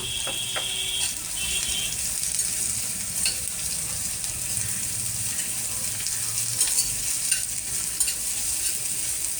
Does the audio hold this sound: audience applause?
no